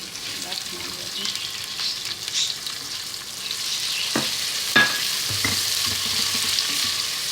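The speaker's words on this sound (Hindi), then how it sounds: "प्याज को हम गोल्डन कर लेंगे।" Sliced onion sizzling in hot oil with bay leaf and cumin seeds, a steady close frying hiss with a few stirring clinks and scrapes, for a Hindi-style meat and chana dal dish.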